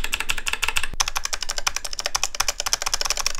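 Fast, continuous typing on a Razer Huntsman Elite mechanical keyboard, its switches producing loud, crisp clicks in a rapid rhythm. Heard close up and alone, with one sharper knock near the start.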